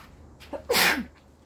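A single sharp sneeze, preceded by a quick inhaled breath, close and fairly loud against a quiet background.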